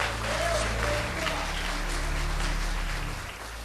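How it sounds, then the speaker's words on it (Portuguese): Church congregation applauding during a worship service, steady dense clapping across the room over a low musical drone, fading slightly at the end. "tome o seu assento aplaudindo a Jesus"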